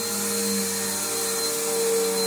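A Bissell Powerforce bagged vacuum cleaner runs continuously, a steady whining motor drone with a constant tone, close and fairly loud throughout.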